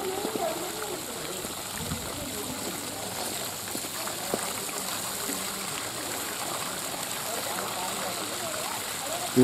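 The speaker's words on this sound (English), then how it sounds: "Beautiful sound of water" A fountain's water splashes and trickles steadily throughout, in the rain, with faint voices and city bustle murmuring in the background.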